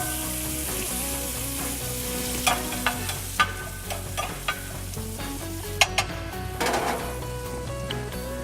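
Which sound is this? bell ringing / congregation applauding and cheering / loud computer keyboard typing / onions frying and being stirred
onions frying and being stirred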